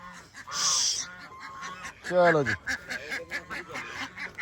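Loud honking calls from geese or ducks, a sharp burst then a long warbling honk, with a voice talking nearby.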